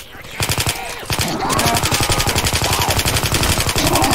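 Rapid, sustained assault rifle fire in Left 4 Dead 2, an evenly spaced stream of loud shots running almost without a break, with faint voices mixed in.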